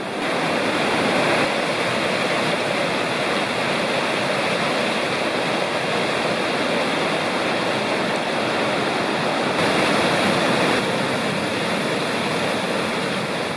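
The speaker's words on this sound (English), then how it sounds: "This is a beautiful waterfall that you have to go off trail a bit to see" An off-trail waterfall near the Rocky Fork in a mountain valley roars as a constant, loud wash of rushing water, steady throughout with no voices.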